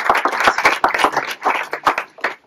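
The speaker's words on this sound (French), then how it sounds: "On peut l'applaudir effectivement" A small group claps in a quick, uneven burst of sharp individual hand claps at close range, the applause short and informal rather than a full crowd roar.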